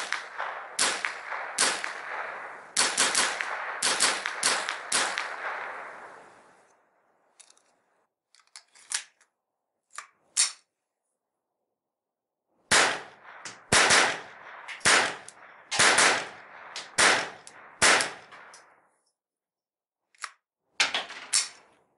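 Rapid strings of sharp, dry cracks from a Browning Buck Mark Carbine rifle, fired in quick bursts with a pause midway and a few isolated single shots near the end, close and loud.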